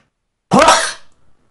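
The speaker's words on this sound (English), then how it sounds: "I'm going to sneeze." A single sharp sneeze bursts out loud and close, followed by a brief faint breathy tail.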